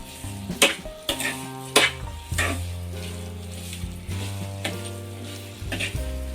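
Sugar is stirred into pineapple kesaribath in a hot pan, with a steady sizzle and repeated clinks and scrapes of the spoon against the pan at an uneven rhythm, close by and without talk.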